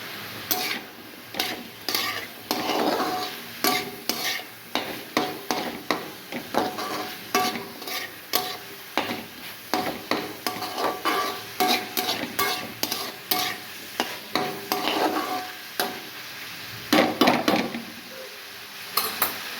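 Bitter gourd slices frying in a pan with salt, a steady sizzle broken by repeated scraping stir strokes in an uneven rhythm, close and fairly loud with no voices.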